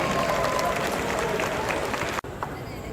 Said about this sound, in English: give a big round of applause to the Seattle Hmong New Year and the Seattle Festival, Seattle Center Festival